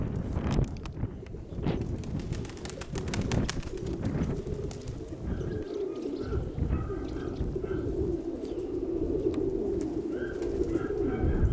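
Pigeons coo repeatedly, soft low throaty calls rolling on and off, with some rustling and clattering around them nearby.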